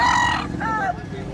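A white choco rooster about eleven months old crows loudly and close by in one short, harmonic call that breaks into a rising, wavering tail.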